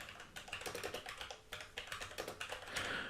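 Keys on a computer keyboard clatter in quick bursts of close, crisp taps, with short pauses between runs and no talking.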